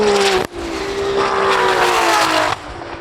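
A tuned BMW M140i and a Lamborghini roar through a drag race, one engine screaming loud and close with a brief drop at a gear change, then sustained high revving that falls off near the end.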